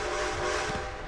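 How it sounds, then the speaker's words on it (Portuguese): A steam train rolls slowly past in Red Dead Redemption 2, a steady rumbling drone with sustained whistle-like tones running through the whole moment, loud and continuous. "Olha esse trem ridículo de lerdo"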